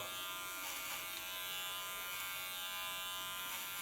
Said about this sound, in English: lift up on the line of cutting, go in with my clipper